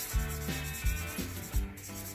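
Fine 1000-grit sandpaper rubs against the commutator of an angle grinder being repaired, with about four short, soft back-and-forth scrubbing strokes close by and no talking.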